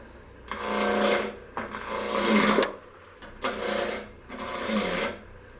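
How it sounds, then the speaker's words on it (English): A roughing gouge cuts a wood blank on a lathe spinning around 1800 rpm, knocking off the corners in four rasping, chattering passes of about a second each, with a running motor hum between them. "I'm going to start out with a roughing gouge, and I'm just going to get the corners knocked off and get this thing cleaned up"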